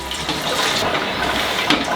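Fries plunged into a deep fryer of oil at 190 degrees, giving a close, loud, continuous bubbling hiss and churning rush for a couple of seconds with no talking.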